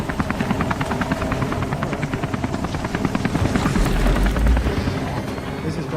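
A helicopter in the game Beyond: Two Souls thumps with rapid, evenly spaced rotor chops, loud and close, swelling slightly toward the end as a low rumble builds.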